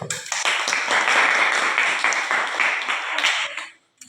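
Classmates in a school classroom clap together after a group presentation, a dense burst of hand claps that fills the room for several seconds before tapering off abruptly near the end.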